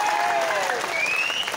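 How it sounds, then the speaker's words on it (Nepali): Audience applause from a live comedy crowd, the claps ragged and out of rhythm, loud and sustained throughout with a faint whistling tone drifting above the clatter. "अब हामीले कति ताली पड्काउनु भएको छ, तालीको लय मिलिरहेको छैन"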